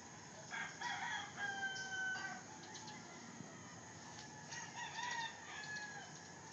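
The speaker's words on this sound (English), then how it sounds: "Chickens crowing" Roosters crow around 6 a.m. in Cebu, several drawn-out cock-a-doodle-doos at moderate distance, layered over each other with some clucking and a steady outdoor background.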